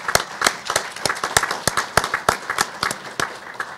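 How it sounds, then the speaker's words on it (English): A conference audience claps for the event sponsors, with crisp, close, individual hand claps in a fairly sparse, uneven rhythm that lasts only a few seconds, with no talk. "So let's have a round of applause for all of our sponsors."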